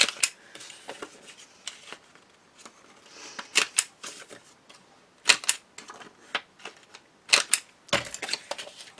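Sharp, crisp clicks of a corner punch chopping the corners off cardstock pieces for a memory book, several separate snaps spread unevenly over a quiet tabletop, close and fairly loud with small paper rustles between.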